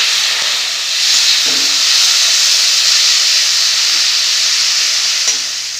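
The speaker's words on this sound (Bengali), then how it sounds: "তেল গরম হয়ে গেছে, চিংড়ি মাছগুলো ভেজে নেব।" Prawns fry in hot oil in a wok, producing a loud, continuous hissing sizzle that swells slightly and holds steady throughout, with no voices.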